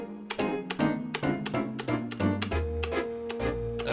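A musical keyboard is struck repeatedly at an uneven tempo, producing about a dozen sharp, distinct piano-like notes that ring briefly and change pitch, close and fairly loud, with no voices.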